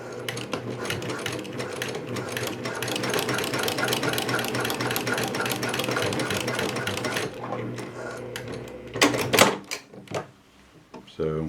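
A sewing machine stitches pants fabric in a fast, steady mechanical whir with rapid needle clicks for several seconds, then stops, followed by a few sharp handling clatters close by.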